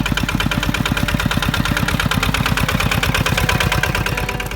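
Tractor engine used for plowing rice paddies in a Central Java village, chugging loud and close with a fast, steady knocking pulse that holds throughout, no voices.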